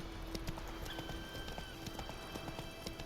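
Horse hooves in The Witcher 3 beat out a steady, quick clip-clop under game ambience, fairly faint, with a brief whinny-like tone and no talk.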